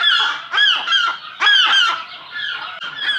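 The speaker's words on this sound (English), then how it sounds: "These damn seagulls are loud" Seagulls call loudly and close by, a string of harsh, repeated squawking cries in quick succession, heard from a seaside patio at Morro Bay.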